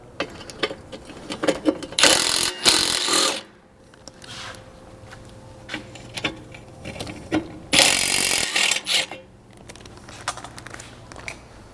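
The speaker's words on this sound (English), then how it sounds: "underneath here by our spare tire, we're going to have 2 10mm bolts to remove, 1 on each side" A hand ratchet clicks in quick bursts while 10mm bolts are removed under the rear bumper of a Lexus GX460 beside the spare tire. Two loud runs of rapid clicking stand out against scattered clinks and handling noises.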